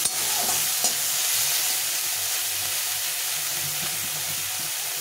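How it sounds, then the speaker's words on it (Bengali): Shrimp frying in a small amount of oil, a steady close sizzle with faint stirring scrapes running evenly throughout, no voices. "খুব একটা বেশি ভাজবো না, নরম নরম করে ভেজে নেব"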